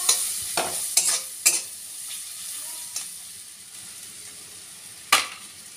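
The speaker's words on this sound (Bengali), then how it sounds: "তো এবার এটা ভালো করে নেড়ে চেড়ে নিচ্ছি।" An egg fry is stirred in a frying pan: sharp spatula scrapes and knocks land irregularly over a soft continuous sizzle, close by and without any talking.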